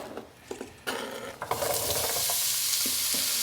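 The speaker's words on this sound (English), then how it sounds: "So why don't you put our garlic in our pan for us, and I'll get our onions." Garlic dropped into a hot frying pan for an egg roll in a bowl, with a few soft clatters and stirring scrapes before a loud, steady sizzle that rises and holds to the end, no talking.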